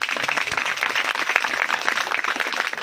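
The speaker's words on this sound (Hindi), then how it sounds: "इन बच्चियों के लिए एक बार जोरदार ताली।" A crowd claps loudly for a group of schoolgirls at a village gathering, brisk continuous applause close by, lasting the full stretch without speech.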